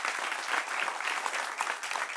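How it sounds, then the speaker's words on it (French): Audience applause for an expert guest on a talk show, a steady dense clapping from a crowd held at even loudness throughout, with no voices over it. "Applaudissements encore plus fort pour elle"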